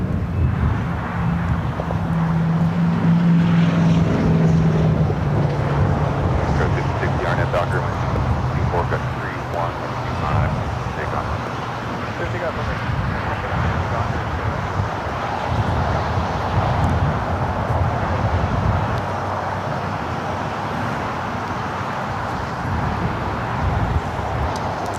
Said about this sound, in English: 3:33 takeoff time for the German Air Force